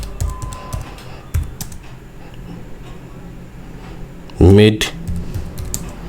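Typing on a computer keyboard, fast clusters of light key clicks with pauses between bursts, close and clear. A voice speaks briefly partway through.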